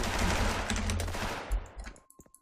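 Rapid automatic gunfire from the Special Force shooter game rattles loud and dense for about two seconds, then breaks into a few scattered shots and clicks before stopping.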